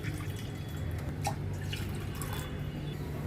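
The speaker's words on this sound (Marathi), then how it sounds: "दोन पेले आपण पाणी घेऊया" Two glasses of water pour steadily into a pan on a switched-off gas stove while rice-flour dough for ukadiche modak is being prepared. The flow is close and continuous, with light dripping splashes and no talk.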